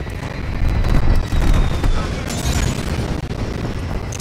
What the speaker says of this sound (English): Hostile strafe run inbound.